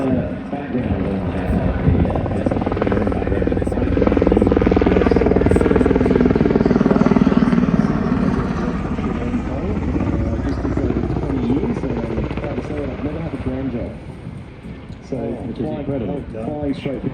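An MH-60R Seahawk helicopter performs a solo handling display at the Avalon airshow, its loud rotor thump and turbine whine swelling and fading over about seventeen seconds while an announcer talks over it.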